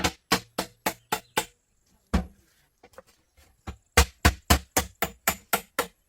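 Hammer striking a nail on an African farm: a quick run of six sharp blows, a lone strike and a few light taps after a pause, then a steady burst of about nine loud, evenly paced hits.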